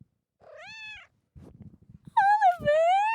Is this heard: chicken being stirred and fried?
no